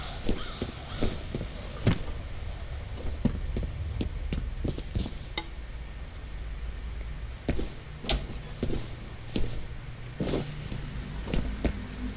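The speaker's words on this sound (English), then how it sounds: "Bird." Bird cawing amid the ambient soundscape of the video game F.E.A.R., repeated sharp caws and clicks scattered over a low droning hum, moderately quiet with no talk.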